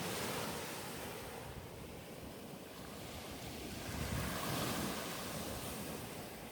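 Ocean waves rolling in continuously in an autumn nature setting, a broad steady roar of surf with gentle swells, mixed with some wind noise on the microphone and no voices.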